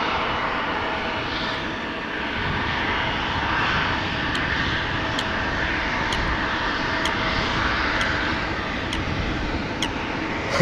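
An Airbus A350 airliner in LA28 Olympics livery at Amsterdam Schiphol airport, its engines giving a steady, broadband roar that holds evenly throughout, moderately distant, with faint repeated ticks above it and no talk.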